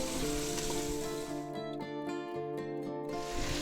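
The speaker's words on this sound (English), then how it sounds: "Just keep stirring until we don't want anything to stick down the bottom" Pot roast meat with spices sizzles steadily in a pot under a constant frying hiss, with a few faint scrapes and clicks from stirring.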